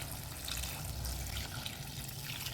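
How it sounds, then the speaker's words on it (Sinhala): Water pours into a pan for making homemade koththu rotti, a continuous close splashing and trickling that holds a steady level throughout. "ඔන්න ඉතින් දැන් ඇරලා අපි මේකට වතුර ටිකක් දාගන්නවා"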